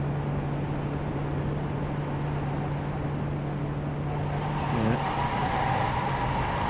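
A sim race car in a British Boring Car Championship round at Thruxton drones steadily, with a brief tire squeal near the end and no clear impact.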